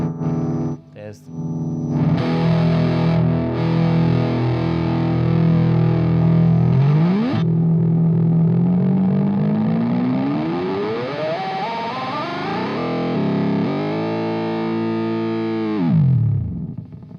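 Electric guitar run through a Memory Man delay pedal, a dense distorted tone with long repeating echoes that swell and pitch-slide, laid over steady hum and hiss throughout, loud and continuous until it cuts out near the end.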